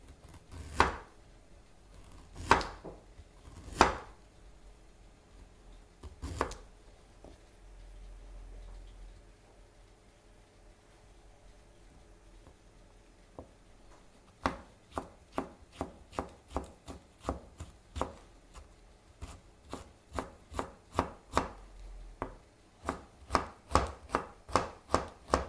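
A knife julienning ginger on a cutting board for eel dishes: a few separate chops early on, a pause, then a long run of quick, steady, close taps, with no talking.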